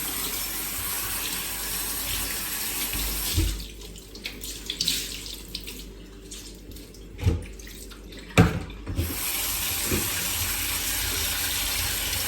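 Water from a tap runs into a sink filling a bowl with disinfectant for washing a cloth, a steady close gush that breaks midway into splashes and sloshing before the flow resumes.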